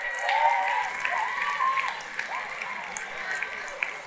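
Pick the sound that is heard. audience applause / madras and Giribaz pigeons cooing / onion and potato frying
audience applause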